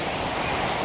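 Waterfall in a city eco park in Kolkata, heard as a steady, dense broadband rush of falling water that holds evenly throughout the short moment, with no voices over it.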